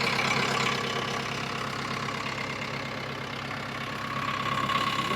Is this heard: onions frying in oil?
no